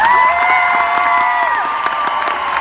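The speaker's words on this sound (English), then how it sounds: "Give yourselves a round of applause." Audience at a Dancing With The Stars show claps and cheers loudly and steadily, with sustained whoops and shouts riding over dense applause throughout.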